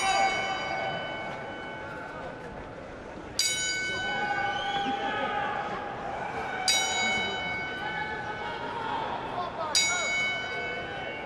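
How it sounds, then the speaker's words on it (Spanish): Ceremonial gong struck repeatedly at a boxing event in tribute, three loud ringing strikes in view, each sharp onset followed by a long shimmering decay, over steady crowd murmur and commentary voices. "por eso se le dan estos 10 toques de gong"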